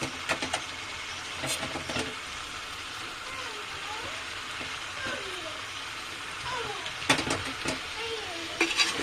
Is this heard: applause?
no